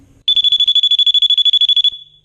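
A loud, shrill portable door alarm pulses rapidly at a steady pitch for about a second and a half, then cuts off with a brief fading tone.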